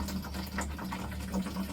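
A well pump runs steadily while filling a water tank, giving a faint, continuous low hum with a soft trickle of water over it and no talking.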